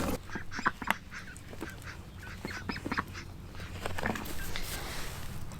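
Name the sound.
ducks quacking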